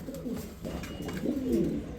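Pigeons coo in a loft, kept by a dealer who also holds a female Shadel Fieldback, their low rolling calls repeating close by in overlapping bursts with no talk.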